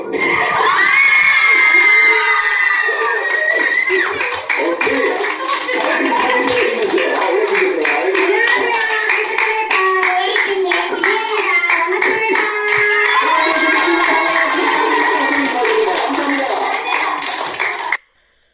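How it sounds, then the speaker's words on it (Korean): Schoolchildren in a classroom cheer, scream and clap loudly and excitedly for a surprise guest mentor, a sustained dense burst of shrieking voices and rapid clapping that cuts off abruptly at the end. "선생님 나오시면 지금보다 더 뜨거운 박수 좀 부탁드리겠습니다."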